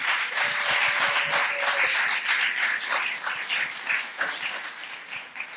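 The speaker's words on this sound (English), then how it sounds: "I think maybe a round of applause for our authors." An audience at a university book event applauds the authors, a full, continuous burst of many hands clapping that holds strong for several seconds, then thins slightly toward the end.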